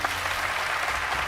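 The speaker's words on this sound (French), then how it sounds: "Quand le public va applaudir, vous allez juste dormir." Talent show audience applauding, a dense steady wash of clapping from a large crowd, loud and sustained with no break.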